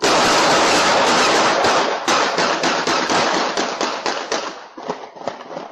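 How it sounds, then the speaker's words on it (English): A rapid series of sharp gunshots cracks out during a real shooting in Houston, densely packed at first, then spacing out and fading slightly toward the end. "you hear the first series of gunshots and see people scrambling for safety"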